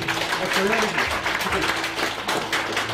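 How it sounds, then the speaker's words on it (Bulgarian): Wedding guests applaud at the cake cutting with loose, uneven clapping, while voices and music carry on underneath. "Аплодисменти."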